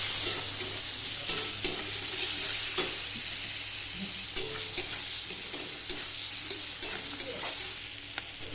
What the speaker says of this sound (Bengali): পেঁয়াজটা ভালো করে ভাজা করে নেওয়ার পরে আদা রসুনের পেস্টটা দিয়ে দেবো